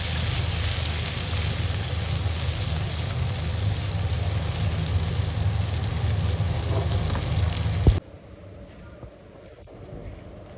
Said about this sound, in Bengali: টমেটোকে একটু সাতলে নিছি।